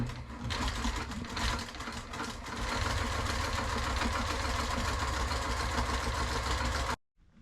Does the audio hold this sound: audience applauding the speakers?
no